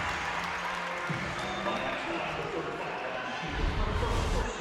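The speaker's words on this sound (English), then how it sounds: "That ignites the crowd in the sea of orange inside the Stroh Center." A crowd cheering after an and-one at a women's college basketball game between BGSU and Columbia in the Stroh Center, a broad roar of voices and applause that swells louder near the end, with a commentator talking over it.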